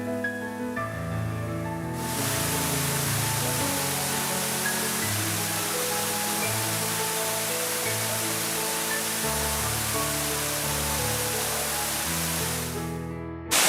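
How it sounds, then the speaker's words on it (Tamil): Periyar waterfall near Vellimalai in Villupuram district, a dense, constant roar of falling water that starts abruptly and holds steady throughout, under background music. "நாங்கள் இப்போ விழுப்புரம் டிஸ்ட்ரிக்ட் வெள்ளிமலைக்கு பக்கத்தில் இருக்க பெரியார் நீர்வீழ்ச்சிக்கு வந்திருக்கோம்"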